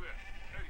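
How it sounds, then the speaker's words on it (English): Goats bleating in the video game My Summer Car, a brief wavering bleat sounding faint and distant, with a voice talking over it. "They're singing goats."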